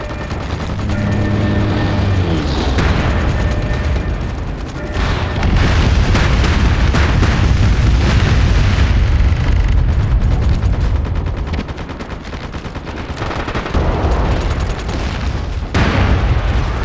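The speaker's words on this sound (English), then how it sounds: "Be advised, friendly bomb is inbound." Friendly bomb blasts land in a large-scale MAG multiplayer battle on PS3, with heavy booming detonations and rolling rumble layered under dense, continuous gunfire and machine-gun bursts, loud and close throughout.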